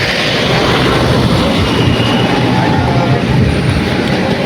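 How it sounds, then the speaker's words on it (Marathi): Loud, steady rumbling roar of a train or heavy machinery fills the Shegaon railway station, a dense continuous wash of noise with no clear voices. "हे शेगावचं रेल्वे स्टेशन आहे, पाहू शकता तुम्ही"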